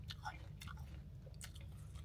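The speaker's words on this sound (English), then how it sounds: "this apple is very crunchy." Close, quiet crunching as someone bites into and chews a crisp Pure Envy apple, with a few sharp bites followed by moist chewing.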